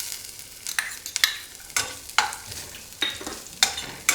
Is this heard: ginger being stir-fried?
yes